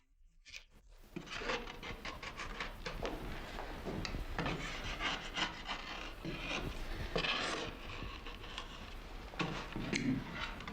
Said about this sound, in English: the curved bit scoops out material in thin crescents